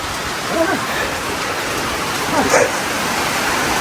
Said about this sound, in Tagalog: Grabe yung ulan, oh.